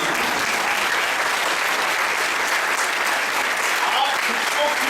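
Steady, dense applause from an audience at a motivational talk, continuous and loud throughout without a break.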